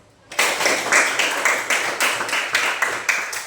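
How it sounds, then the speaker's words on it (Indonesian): A classroom of students breaks into sudden, loud clapping for the groups after their answers, a dense burst of applause with a steady pulsing rhythm that continues to the end. "Tepuk tangan untuk semua dulu."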